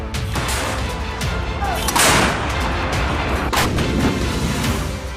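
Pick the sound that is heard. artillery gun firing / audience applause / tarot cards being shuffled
artillery gun firing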